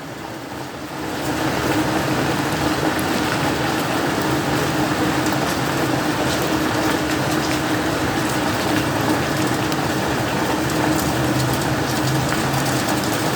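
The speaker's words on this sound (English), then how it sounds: "Now we're in a severe thunderstorm right here, guys. Got hail, lightning," Heavy rain and hail pour down steadily during a severe thunderstorm, a dense loud wash of drumming on surfaces that stays constant throughout, with no distinct thunderclap standing out.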